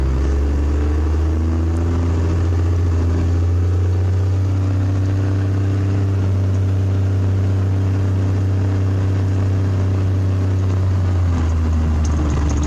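A diesel truck with modified fuel pins, heard from inside the cab while driving, gives a loud, steady low engine drone and whir that builds as it accelerates at partial throttle, with no talk over it.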